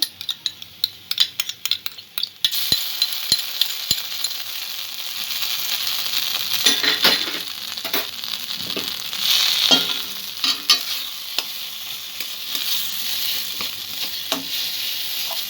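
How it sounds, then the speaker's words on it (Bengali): Egg pakora ingredients with a spoonful of tomato sauce fry in a pan. A few sharp utensil taps come first, then steady sizzling mixed with repeated scraping and stirring. "সব উপকরণ উপকরণগুলো যতক্ষণ না একটু ভাজা ভাজা হচ্ছে ততক্ষণ একটু ভেজে নেব।"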